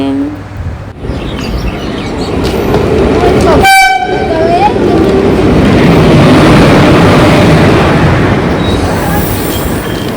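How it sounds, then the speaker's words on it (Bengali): A train pulling into a busy station platform: a loud, continuous rumble and rattle of wheels, broken by one short blast of the horn partway through. "দুই দিকেই ট্রেন এসেছিলো একসাথে"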